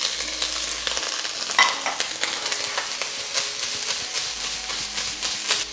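Frozen peas dropped into hot oil for a Chinese takeout-style stir-fry, a loud close sizzle and crackle that hisses steadily with scattered pops and stirring scrapes, no voices.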